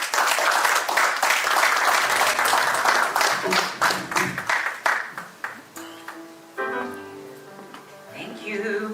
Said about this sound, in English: Give another round of applause to Dr. Eric, to the board.